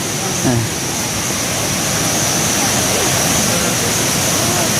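A natural waterfall roars in a continuous broadband rush. The water sound is steady and close, and a voice talks briefly near the start.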